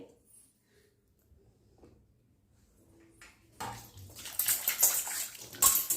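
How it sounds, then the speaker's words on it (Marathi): Water running over an oiled iron kadai as it is washed: near-silence with faint clinks at first, then a loud rushing tap stream with splashing and metal handling in the last couple of seconds. "आपण याला तेल लावून ठेवलं होतं आता आपण हे धुवून घ्यायचं आहे"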